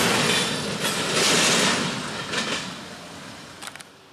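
A westbound train on the line near North Baltimore in northern Ohio approaches with a loud, broad rumble and rolling wheel noise that gradually eases, followed by a few faint clicks of the wheels.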